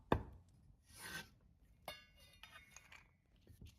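A kitchen knife cuts washed coriander into short lengths on a board. One sharp, close chop is followed by a few quieter scraping and tapping cuts, with pauses between them.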